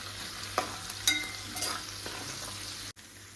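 Kerala-style lemon pickle mixture sautés in a hot pan with salt, a steady soft sizzle broken by a few scraping stirs of a spoon, close and fairly quiet.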